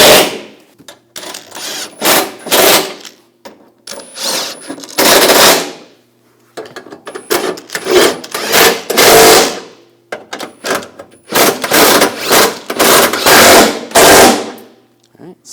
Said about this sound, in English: Now I'll tighten this down.